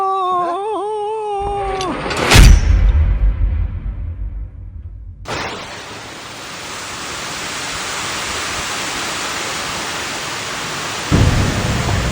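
A sharp crack of thunder rumbles away, then steady heavy monsoon rain pours down loudly by a river in Kottayam, Kerala, with another thunder burst near the end.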